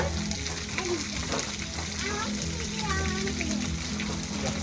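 Food fries on a picnic grill outdoors at a picnic spot in Daylesford near Melbourne, with a steady close sizzle and occasional scraping while soft voices murmur faintly in the background.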